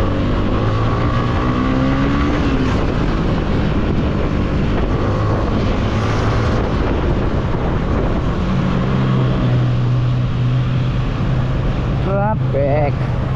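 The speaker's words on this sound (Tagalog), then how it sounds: "Traffic." Night road traffic on the route from Nasugbu to Sta Cruz, a steady wash of car engines and tire roar passing close and continuous, with a brief honk-like tonal burst near the end.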